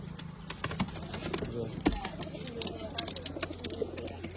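Pigeons cooing softly in a loft, low intermittent calls close by, with clicks and taps and a person talking over them.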